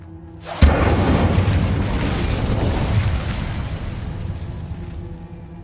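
The Incendio fire spell cast in Hogwarts Legacy, starting with a sudden loud burst that swells into a sustained roaring whoosh and slowly fades over several seconds.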